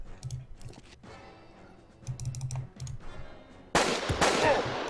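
Gunfire from the video game Jagged Alliance 2 v1.13, a burst of loud shots arriving suddenly in the last second after a quieter stretch of clicking game sounds.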